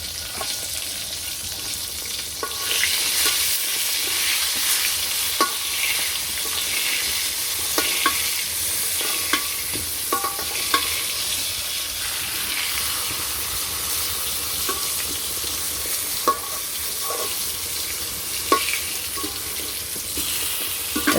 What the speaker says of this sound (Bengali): বেগুন ভাজতে বেশি সময় লাগে না তাড়াতাড়ি হয়ে যায়